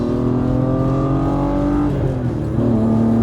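BMW M3 E36 at full throttle, a loud close engine note with its pitch climbing steadily before a brief gear change dip and renewed acceleration.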